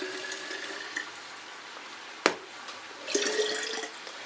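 Water runs from a kitchen tap into a passata bottle, a soft steady trickle with a brief clunk partway through before the flow swells again, fairly faint and close.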